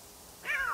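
A cat meows once inside The Sims 3, a single clear, fairly loud meow rising then falling, alone against a quiet background.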